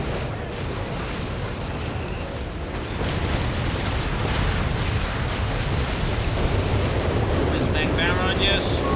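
Rocket artillery barrage from Whizbang launchers in the strategy game Company of Heroes 3, a dense rumbling roll of explosions that swells louder after a few seconds, with a voice talking over it.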